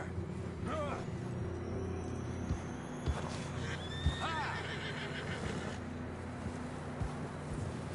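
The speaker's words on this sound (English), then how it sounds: "John was riding that horse when we left Blackwater." A horse whinnies twice, rising and falling, over a low ambient bed with faint hoof sounds and occasional soft thuds, in the video game Red Dead Redemption 2.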